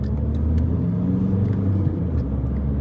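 A tuned car engine hums steadily from inside the car while driving on a road, a constant low rumble with light road noise and no strong acceleration.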